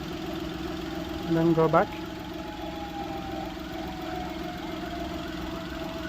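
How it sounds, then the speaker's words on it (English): Steady engine idle right after starting during a battery and starting-system test, a low continuous hum with a brief louder burst early on and a person speaking over it. "Vehicle started."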